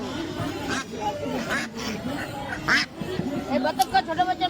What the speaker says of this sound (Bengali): এই হাঁসগুলো দেখুন